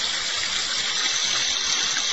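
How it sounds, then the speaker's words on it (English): Hawaiian waterfall recording from a relaxation app, a loud continuous gush of pouring water with a bright hiss and churning low splashes, steady from start to finish. "The Hawaiian waterfall."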